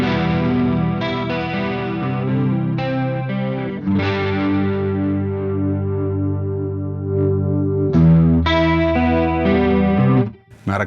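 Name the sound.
guitar amp clean channel with chorus effect pedal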